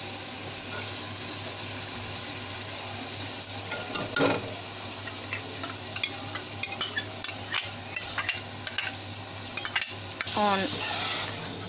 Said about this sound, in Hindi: अब हम इसमें जो हमने चनों की दाल बॉईल की हुई थी वो अब हम इसमें ऐड कर देंगे।